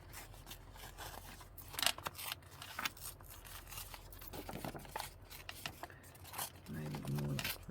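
A paper page torn by hand while making a junk journal cover, with several short ripping bursts and crinkles close by, fairly quiet, over a low steady hum.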